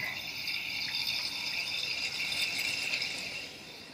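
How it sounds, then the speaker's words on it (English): Coolant is drawn through an open valve into a BMW M3 cooling system, making a steady hissing, gurgling rush with a light rattle that eases off near the end. "So we'll open this valve. And I'll let it start sucking the coolant in"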